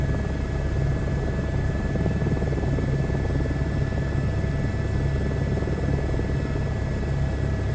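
A helicopter in Microsoft Flight Simulator 2024 drones steadily throughout, a continuous rotor and engine hum with a constant whine, close and even, nobody talking.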